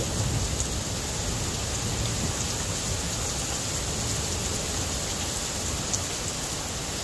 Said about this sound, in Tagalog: Narinig niyo yung kulog?